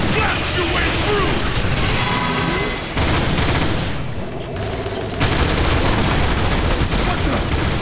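Rapid gunfire clatters against the armored hide of a giant creature in Transformers: War for Cybertron, a loud, dense barrage of impacts and mechanical clanks that drops out briefly partway through, with voices talking over it.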